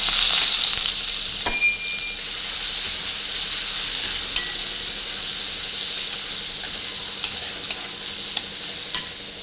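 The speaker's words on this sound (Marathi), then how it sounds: "त्यात थोडा हिंग घालते, थोडीशी हळद आणि हा कांदा त्यात परतून घेणार आहे" Onion frying in hot oil with crackling mustard seeds, asafoetida and turmeric, a steady close sizzle with scattered sharp pops and occasional spoon scrapes against the pan.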